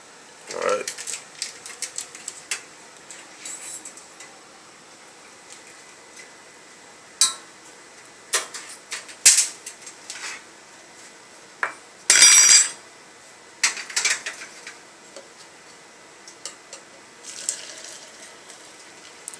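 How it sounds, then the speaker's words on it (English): A spoon stirs cilantro tea and two tablespoons of chlorella in a cup, making scattered light clinks and taps against the cup with one louder scraping burst and quiet pauses between. "he's mixing it in the cup that he put 2 tablespoons of chlorella in"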